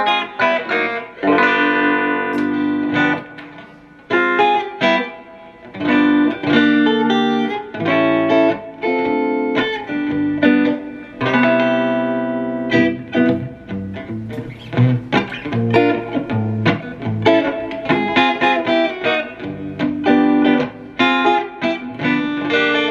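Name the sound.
electric guitar through Marshall 100 DFX amplifier with reverb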